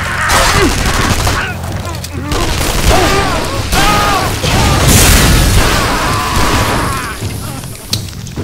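Heavy, dense gunfire and booming blasts from gun-wielding enemies in the Shadow Warrior shooter, a continuous loud barrage with voices mixed in throughout.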